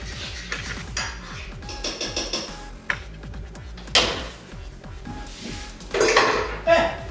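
Omelet eggs are stirred in oil in a pan with a utensil, giving repeated metallic scrapes and clinks at an uneven pace, close and fairly quiet, with a few sharper knocks against the pan.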